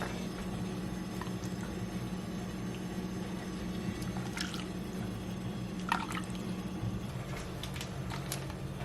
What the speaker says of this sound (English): a pot of water simmering away